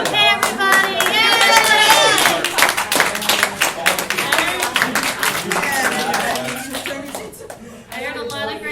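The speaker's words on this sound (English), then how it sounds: "give yourselves a huge round of applause" An improv class breaks into lively clapping from a group of people, dense and close at first, then thinning out, with voices chattering and cheering throughout.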